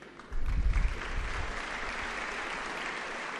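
An audience claps at a public interview event in Kolhapur, the applause rising suddenly and holding as a steady, dense wash of many hands from a large crowd.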